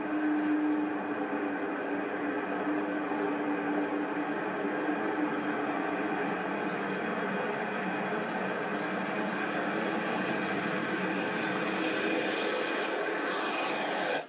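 Avro Vulcan bomber taking off, a steady loud jet engine roar that holds throughout with a sustained tonal drone, heard from a distance without pause.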